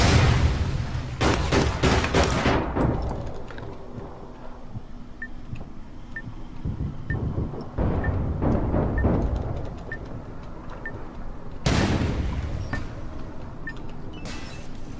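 Grenade blast and gunfire in APB Reloaded: broadband bursts of shots and explosions come in clusters near the start, the middle and the end, loud and close, with a quiet background between them.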